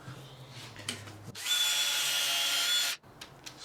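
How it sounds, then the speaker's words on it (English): A power drill spins a new buffing wheel on pitted chrome, likely a Boulevard C50 rear rack, giving a loud steady high whir for about a second and a half that stops abruptly, with quieter handling noises before and after. "I got myself a new buffing wheel for the drill and some new bloody polish stuff."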